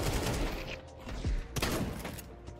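Rapid gunfire in the video game Counter-Strike 2, including pump shotgun blasts, several sharp shots and bursts in quick succession at fairly low volume.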